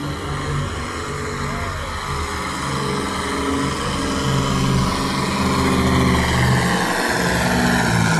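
A pulling tractor's engine at a tractor pulling event, a loud sustained droning roar with steady harmonic tones that rise and strain slightly, running continuously up close without speech.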